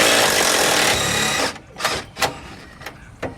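A power tool works loose the rear shock absorber on a VW Type 3, a steady loud whir for over a second, then several short separate bursts with quiet gaps between them.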